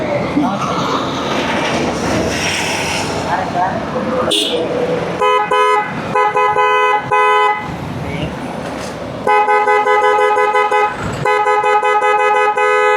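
A motorcycle fitted with a single pop horn is tested with several sharp, loud blasts of varying length, separated by short gaps. Engine noise and a person talking are heard in between.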